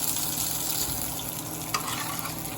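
Cajun oxtails frying in a pot on a stove: a steady, dense sizzle and crackle of hot oil throughout, with one brief sharper pop, no voices.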